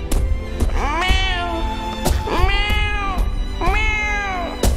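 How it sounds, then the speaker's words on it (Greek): A cat meows in several drawn-out, rising and falling calls, about three clear cries in close succession, loud and near with no talk. "Ένας γάτος ήρθε και γουργούρισε δίπλα της."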